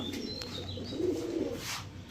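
A Pakistani racing pigeon, a hen, coos softly in a low throaty murmur over faint background noise, brief and close, no speech.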